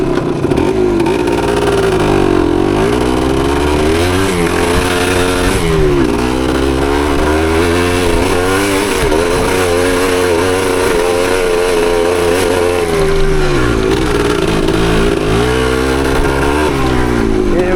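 A 1975 Yamaha DT250 trail motorcycle rides continuously with a loud, close two-stroke engine. The revs rise and fall repeatedly as the throttle opens and eases, with a slight sputter and no voices.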